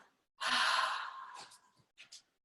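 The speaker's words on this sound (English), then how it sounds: "Breathing in through our nose, out through our mouth" A long, audible exhale through the mouth in a yoga ocean breath, a breathy rush that fades, followed by two short faint breaths.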